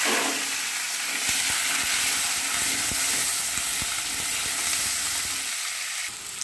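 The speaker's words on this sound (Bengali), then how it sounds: "দেখুন পেঁপেটাও ভাজা হচ্ছে" Papaya pieces frying in hot oil left over from frying potatoes, a steady close sizzle and hiss with occasional crackles and spatters, with no voices.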